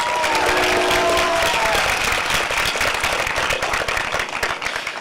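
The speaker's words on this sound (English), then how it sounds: "Let's give ourselves a round of applause." High school graduates at their 2025 commencement ceremony give themselves a dense, loud round of applause with some cheering, holding strong before tapering slightly at the end; a brief tonal sound rings out near the start.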